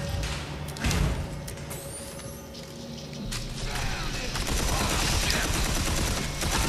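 Gunfire from a weapon in the shooter RF: Armageddon comes as a close burst of shots around the one-second mark, then a denser stretch of rattling fire and game effects builds steadily toward the end, with no talking.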